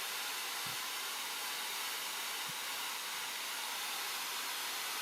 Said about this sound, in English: just blow dry all across the surface of the Keris blade, as what I'm doing now